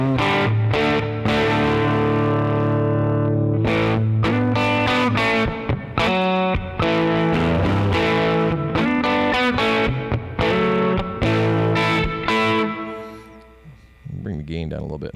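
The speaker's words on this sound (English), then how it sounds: "The next one down is a twin reverb, which we know is, of course, double the power of a deluxe reverb and double the speakers." A NU-X MP2 guitar modeling plug running a twin reverb amp model carries electric guitar chords in quick, choppy bursts, a busy rhythmic pattern of stabs and short rings, close and loud, fading at the end.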